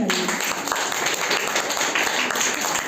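Loud, steady applause from a crowd at a school farewell party, honouring a hardworking student, with dense clapping running unbroken throughout and a few voices faintly mixed in.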